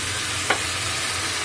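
Spices for pomfret fish curry fry in a pan (Kashmiri chili, hot chili powder, salt and a splash of water), a constant close sizzle broken by one quick scraping stir.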